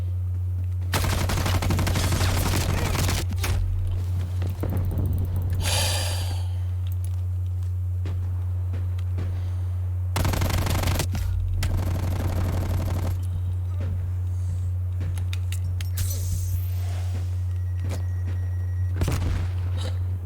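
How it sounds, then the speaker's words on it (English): Light machine gun fire in Call of Duty: Black Ops, loud sustained bursts at about 1–3, 5–6, 10–11 and 12–13 seconds, with quieter scattered shots and clatter between them over a steady low hum. "It's my secondary LMG."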